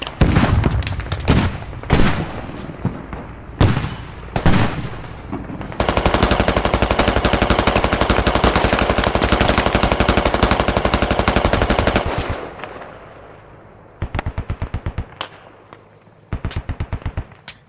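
Heavy gunfire rattles through the Squad military shooter: sharp single shots, then a long sustained machine-gun burst lasting several seconds, followed by shorter rapid bursts, loud and close.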